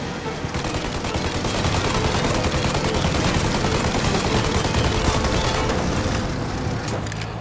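Sustained heavy gunfire in the video game Mafia Definitive Edition during a chase after a plane, a dense continuous barrage of shots lasting the whole stretch with no talk over it.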